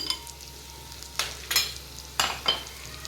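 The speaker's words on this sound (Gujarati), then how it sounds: "હવે આપણે આમાં ગાજર એડ કરી દઈશું." A carrot goes into a cooking pot for one-pot tomato rice, followed by a soft background sizzle and four or five sharp stirring scrapes spaced irregularly, close by.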